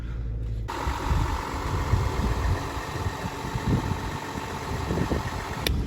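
A VW Touareg 3.0 TDI diesel idles steadily after a hard cold start in first frost, its low, even engine rumble running close and continuous with no talk over it.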